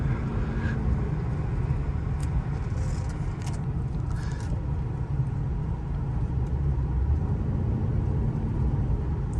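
A 1996 Lincoln Town Car Signature cruising along, heard from inside as a continuous low road rumble and engine hum with steady tyre noise, smooth and even throughout.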